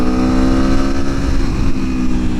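A 2021 Aprilia Tuono motorcycle engine runs loud and close in a steady, throaty drone, the throttle held fairly even during break-in riding, with wind rush and no voices.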